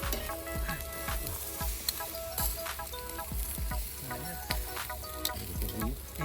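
Food frying in oil sizzles steadily up close, with clinking and stirring noises and faint background voices through a busy kitchen scene.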